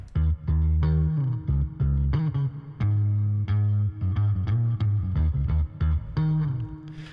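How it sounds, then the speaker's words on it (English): A beat runs through a Decapitator distortion and saturation plugin, loud driven bass notes and gritty chords pulsing in a steady rhythm with no talk. "I needed some distortion, some saturation, so I threw Decapitator on."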